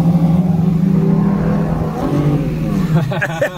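A six-cylinder car engine hums and revs with a low, throaty drone, rising toward the end, while voices chatter in the background at Summernats car show scrutineering.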